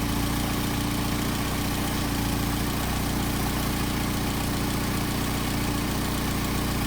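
A Mercedes 190SL engine idles on Solex carburetors, a steady, loud, even rumble with a constant low throb and no talk over it for the whole stretch.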